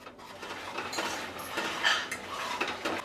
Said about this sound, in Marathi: आता हे मसाले आहेत ना ते तेल सुटेपर्यंत आपल्याला परतून घ्यायचे आहेत.